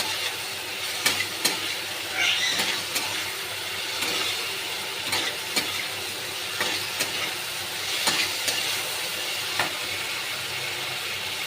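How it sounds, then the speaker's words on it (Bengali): Masala sizzling and frying steadily in a pan for a katla fish and potato curry, with periodic sharp scrapes of a spatula stirring it, loud and close throughout without any talking. "এবার আমি একটু কষে নেব।"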